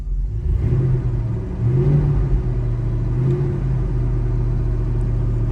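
The 6.0 V8 in a 1986 Chevrolet Suburban rumbles with a deep exhaust note, revving up once or twice before settling into a steady low drone.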